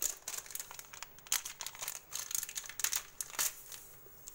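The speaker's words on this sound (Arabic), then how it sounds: "كيس اتفتح مني قوي" A plastic bag of yeast torn and crinkled open in a kitchen while making Egyptian kahk cookies, with close, irregular crackling bursts throughout and no talking.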